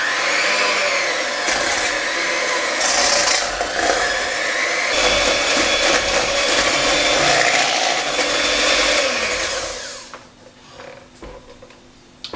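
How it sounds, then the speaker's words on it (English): Lemon cheesecake mixture being whisked for a healthy recipe, a steady loud whirring with clattering against the bowl that runs continuously for about ten seconds before stopping abruptly, leaving a quiet room. "let's just whisk this all up"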